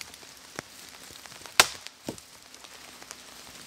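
Firewood is chopped in a rainy swamp valley, the wood braced in a tree fork, with one sharp loud chop followed by a smaller crack and lighter taps over steady rain patter.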